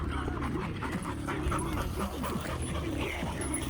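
A dog panting rapidly and steadily at close range on a ridge outdoors, a continuous breathy rhythm with faint whimpers mixed in, heard alone without talking.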